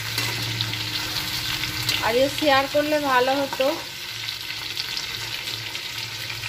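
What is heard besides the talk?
frying pointed gourd and potatoes with salt and turmeric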